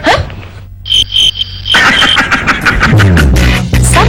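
A cricket sound effect in an Indonesian TV advert for digital broadcasting: a few sharp, high chirps in short bursts, then a loud, busy wash of clattering and engine-like noise.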